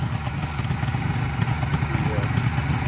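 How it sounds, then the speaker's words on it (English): A 1973 Suzuki GT550 two-stroke motorcycle engine idles steadily with a low burbling, crackly rumble, running continuously under a man's speech. "Suzuki's were a little bit quieter, I think, than the"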